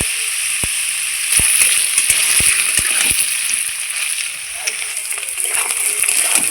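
Paneer pieces frying in hot oil with turmeric powder give off a steady, close sizzle with scattered sharp spatters and pops throughout.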